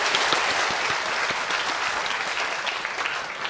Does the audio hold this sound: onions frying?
no